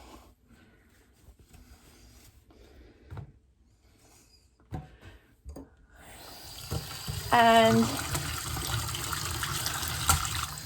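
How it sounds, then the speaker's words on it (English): Running water from a bathroom sink tap gushes in loudly after a quiet stretch with small handling clatter, as a cloth face mask is washed under the stream; a voice briefly speaks. "immediately get it in the sink and wash it"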